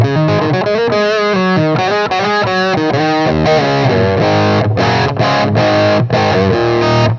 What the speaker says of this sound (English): Almost it starts to get a cocked back wah sound